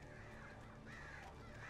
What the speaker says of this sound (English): Oh my god, birds.